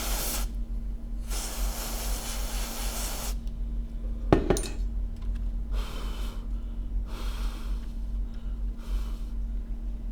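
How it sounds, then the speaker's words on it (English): Freeze spray hisses in a long burst onto a shorted iPhone 7 Plus logic board, then in several shorter, fainter puffs, with a low electrical hum and a sharp click between them. "Let's put some freeze spray back in that spot."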